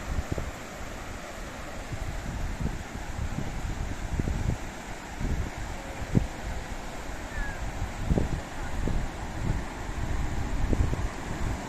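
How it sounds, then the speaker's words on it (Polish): Wind and rushing water at a beach in the evening form a steady low roar. Gusts buffet the microphone in irregular thumps over a continuous hiss of surf. "Posłuchajcie tego szumu wody, szumu wiatru"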